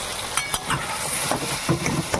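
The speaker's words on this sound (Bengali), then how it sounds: "আর একটু ঢাকা দিয়ে দিয়ে ভেজে নিই" Tomatoes frying in a pan with turmeric, salt and sugar, a steady sizzle broken by several soft stirring scrapes and taps close by, no talk.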